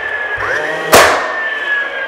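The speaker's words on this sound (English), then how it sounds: "put the tip of my nail gun right in there and drive that nail from the header jam into the leg jam" A nail gun fires a single sharp pneumatic bang as it drives an 18 gauge nail through a door header jamb into the leg jamb during finish carpentry, loud and close, with a steady tonal hum underneath.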